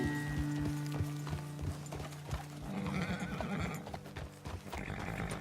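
A horse in the game Red Dead Redemption 2 neighs loudly while hooves clip-clop in a steady beat, heard over constant background game sound.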